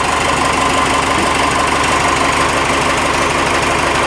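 A Cummins diesel engine swapped into a Ford F150 runs steadily nearby, a loud, constant rumble with a knocking clatter throughout and no voices.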